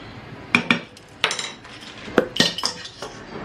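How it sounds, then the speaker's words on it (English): A spoon stirs yeast into a milk mixture in a bowl, giving a few sharp clinks and scrapes of metal against the dish in short bursts with brief pauses between them, close and fairly loud. "I'm just going to give that a little stir"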